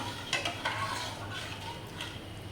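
Batter of grated raw potato and semolina being stirred in a bowl, soft scraping and clinking of the spoon against the vessel with a few sharper taps, quiet and close under a low hum.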